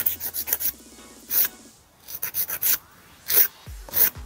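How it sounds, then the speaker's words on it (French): Nail file rasping along the sides of a fingernail in quick short strokes, close and crisp, in clustered bursts separated by brief pauses, with no talk. "on lime encore un peu plus sur les côtés"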